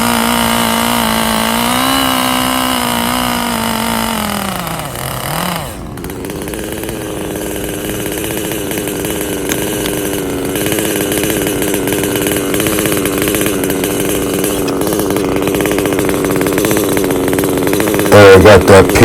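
Stihl 881 chainsaw cutting through a big oak log close to the ground, a loud, steady high-revving whine that dips briefly as the cut shifts, then runs hard and continuous again.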